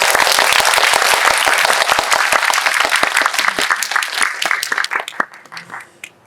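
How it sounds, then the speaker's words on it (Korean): Dense, loud applause from an audience at a Q&A screening of the Korean film 'Cassiopeia' in a Megabox COEX cinema hall, sustained for several seconds before thinning into scattered claps at the end. "와닿으셨다면 큰 박수로."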